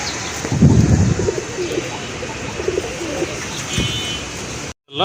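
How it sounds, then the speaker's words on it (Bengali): Pigeons coo in low, throaty bursts close by, a few rolling calls with short pauses between them, over a faint steady background; the birds are Rajshahi Giribaz pigeons kept for sale. "সম্পূর্ণ রানিং কবুতর।"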